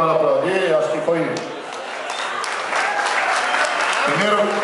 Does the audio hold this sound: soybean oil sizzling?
no